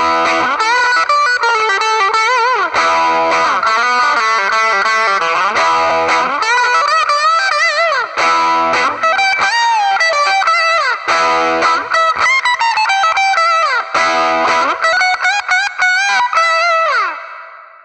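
Distorted electric guitar lead from a Blue Cat Audio Axiom amp-sim preset, voiced for a rock solo, plays sustained bends and fast melodic runs alone, loud and continuous for about seventeen seconds before fading out.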